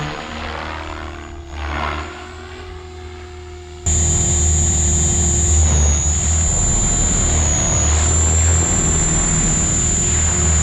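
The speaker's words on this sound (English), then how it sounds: "Very confident flying this helicopter." A Synergy 516 RC helicopter flies at a field, its rotor and motor first heard softer, then jumping to a loud, steady whine with a high tonal hum that holds unbroken to the end.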